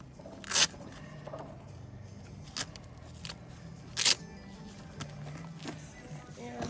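A Velcro strap on a horse's leg boot is pulled and fastened in two sharp ripping bursts, with a few lighter rustles and taps between them, close by in a quiet stable.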